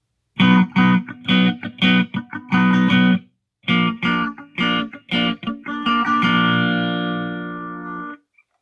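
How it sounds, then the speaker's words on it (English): Guitar chords strummed in a choppy rhythmic pattern, short muted hits between, ending on a long ringing chord that fades out. "And then strumming pattern, when you put that together, sounds like this."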